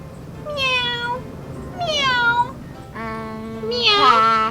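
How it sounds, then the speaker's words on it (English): A cat meows several times in short separate calls, close and clear, the last one louder and more drawn out. "Meow. A cat."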